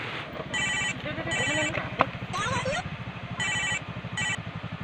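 A telephone rings on an outgoing call, sounding repeated bursts of ringback tone at a steady pace, while people talk nearby in a casual comedy setting.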